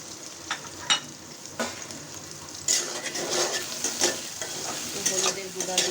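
Potatoes with salt and turmeric powder fry in a pan, a steady sizzle under sharp spatula scrapes and stirring clatter, with louder bursts of scraping in the second half.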